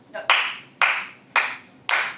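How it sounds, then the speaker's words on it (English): A Toastmasters audience practising slow clapping: four loud, evenly spaced unison claps about half a second apart, each ringing briefly before the next. "Or you want to lead a round of practice clapping?"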